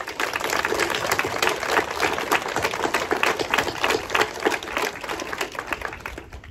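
Sustained applause from an audience honoring Doctor Auguste Trinkel, medical coordinator, at a naming ceremony for a care home; dense, steady clapping at moderate distance throughout, with no voices over it.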